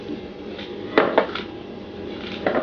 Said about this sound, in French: Champignons café de Paris, petit couteau blanc. Je les coupe en 4